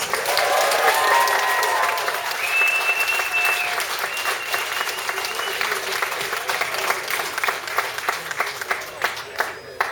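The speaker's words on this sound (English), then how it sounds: "a big round of applause for the DJs, please" Loud, sustained applause from a crowd, dense clapping throughout with some cheering early on.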